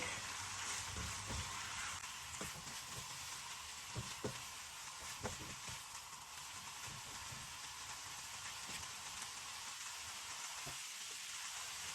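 Vegetables and seafood, including mussels, stirred in a hot wok: a steady broadband sizzle runs throughout with scattered scrapes and clicks of the utensil against the pan, close and fairly loud, no voices.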